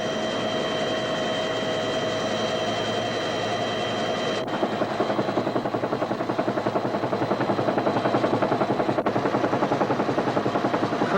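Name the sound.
helicopter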